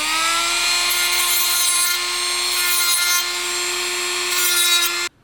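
Dremel rotary tool grinding the edge of a plastic interior tray for a Scalextric slot car, a steady high-pitched whine held close and loud for about five seconds before cutting off abruptly.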